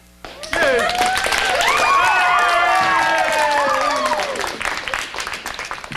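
A theatre audience at a high school production of the musical Oklahoma! bursts into loud cheering, whooping and applause, a dense wash of clapping and shouts that swells then gradually eases.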